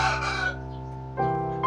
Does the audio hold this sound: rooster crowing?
yes